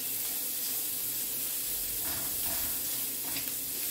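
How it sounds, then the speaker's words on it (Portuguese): Bacon frying in a pan for an oat farofa, a steady soft sizzle and crackle with faint stirring scrapes, close and continuous with no talking. "Bacon já vai soltando a gordurinha dele aqui na panela também."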